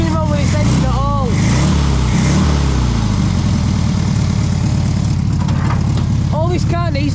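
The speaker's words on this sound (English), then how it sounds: "Nothing wrong with this engine at all." The air-cooled engine of a 1960s Volkswagen Beetle, left sitting for 30 years, idles steadily with a low, throbbing rumble while someone talks over it in bursts.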